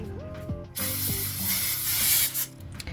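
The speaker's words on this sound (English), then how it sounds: "I will lightly grease the plates." Cooking spray hisses in a steady burst of a few seconds onto the plates of a heating waffle maker, preceded by a brief mechanical click of the can, close and fairly loud.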